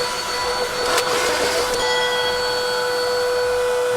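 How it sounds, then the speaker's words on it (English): A shop vacuum runs with a steady whine and hum while a hole is drilled in a modded Arcade1Up NFL Blitz arcade cabinet. A short harsher burst rises over the drone near the start, with no voices. "I'm going to use the vacuum at the same time."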